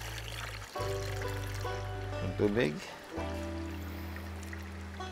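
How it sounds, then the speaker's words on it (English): Water pours into a pressure cooker in a home kitchen, a steady running stream that changes pitch as the pot fills, with a person talking briefly over it. "So, we'll put water first."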